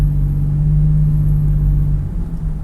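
Low, throaty engine rumble from a Toyota 4Runner TRD with a cold air intake, accelerating at low RPM, drones steadily up close, dipping slightly near the end, with no talking.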